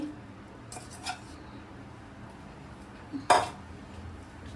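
A spoon stirring grated carrots into milk in a pot for halwa, giving a few faint scrapes and clinks against the pot amid quiet background.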